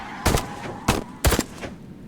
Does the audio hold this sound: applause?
no